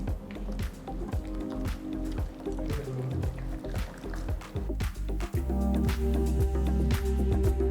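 Kuthiraivali rice dhokla batter gets mixed with water, making wet squishing and sloshing sounds that repeat steadily and close by, with a few clicks and scrapes.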